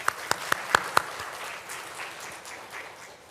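At a Native, Indigenous and Tribal graduation ceremony, five loud, evenly spaced claps ring out close by, followed by softer, scattered clapping from the audience.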